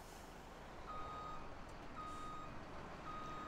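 Truck reversing beeps in a farming video game, Upper Mississippi River Valley map: three evenly spaced electronic beeps over a steady engine rumble and broad background noise.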